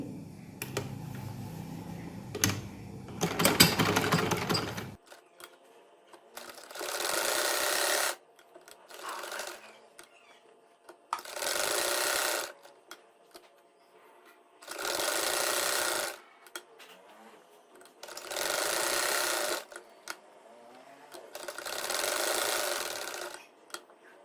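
Sewing machine stitching the hem of a trouser poncha (mohri), running in about six separate bursts of a few seconds each with quiet gaps between, close and steady, after some handling noise at the start.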